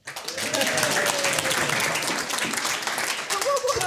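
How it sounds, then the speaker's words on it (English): Wedding guests give a round of applause for the groomsmen, a loud, dense burst of clapping from a full room that carries on steadily throughout, with scattered cheers mixed in. "A round of applause for the groomsmen."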